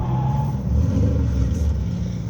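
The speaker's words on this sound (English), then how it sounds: "Give that throttle a bit of a rev to get used to it." A drift car's engine holds a steady, rumbling rev as the throttle is blipped while stationary, a continuous close, loud motor drone with no voices.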